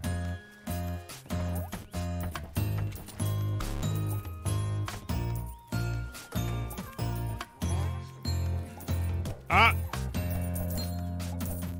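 Cartoon bird quacks from the Plantera 2 garden idle game, repeating in a steady rhythm over looping game music with tinkling chimes, up close and fairly loud.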